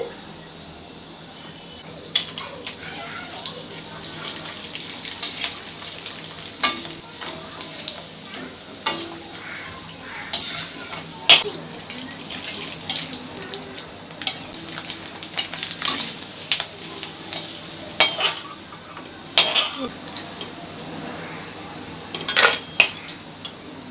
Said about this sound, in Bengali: কড়াইতে দিয়েছি সাদা তেল। এবার আমি ভেজে নেব। তেলটা গরম হয়ে গেছে ভালোভাবে।